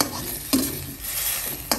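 Cabbage stir-fried with fish sauce in a wok, a steady close sizzle with two sharp clanks of a spatula scraping the pan, no talk.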